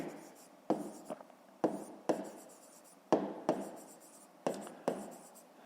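A pen scratches on paper while working out a school maths exercise, with short strokes and scribbles in uneven bursts, close and quiet, with no talk over it.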